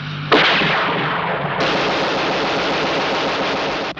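Gunfire in an audio drama battle scene: a sharp, loud shot bursts out, followed by sustained rapid firing that rumbles on without pause for several seconds, with no voices over it.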